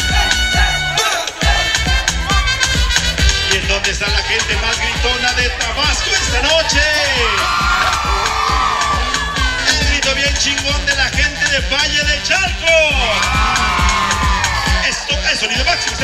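A loud party crowd at a quinceañera celebration with a batucada shouts, whoops and cheers over pounding amplified music, with voices calling out throughout.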